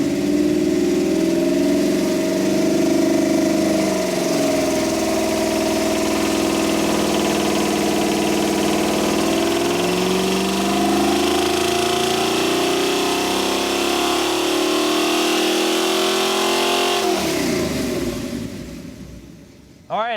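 A rebuilt junkyard Pontiac 400 V8 with a remanufactured 750 Quadrajet carburetor runs on an engine dyno. Its loud, sustained drone rises and shifts in pitch, holds steady, then winds down and cuts off near the end.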